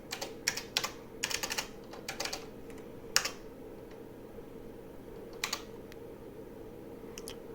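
Keys clacking on an IBM 5150 computer keyboard, short bursts of rapid keystrokes separated by pauses, close and fairly quiet with no voices.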